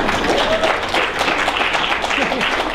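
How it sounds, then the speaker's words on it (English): An audience at a tech conference keynote bursts into applause, a dense, loud round of clapping that sustains for a few seconds with voices faintly mixed in. "Only at a tech conference does that get an applause"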